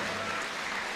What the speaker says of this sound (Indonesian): Mari kita berikan tepuk tangan bagi seluruh panelis,